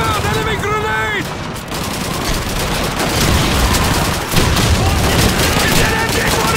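Sustained MG-42 machine-gun fire and scattered battle gunshots in the Call of Duty 2 WWII urban combat, dense and continuous, with shouted voices briefly over the din.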